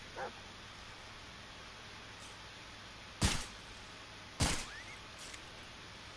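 A guard dog in Metal Gear Solid 3 on extreme difficulty gives two sharp, short barks a second apart over a quiet, steady game ambience.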